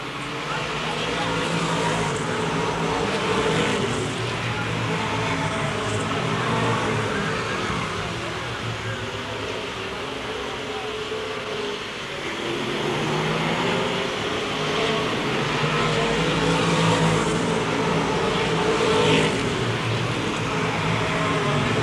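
Stock cars, including the Minute Muffler Buick, roar down the backstretch of a 1994 MASCAR oval race in a steady, loud engine drone, with an announcer talking over it throughout.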